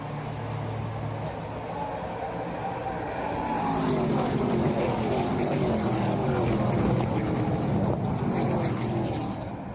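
ARCA Menards Series stock cars racing under green flag at Iowa during the Calypso Lemonade 150, a steady broad engine roar that swells louder midway as the field passes, with no talk over it.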